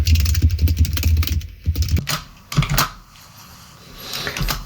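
Rapid clatter of keys as HTML code is typed on a computer keyboard, close and fairly loud, in quick bursts with short pauses between them.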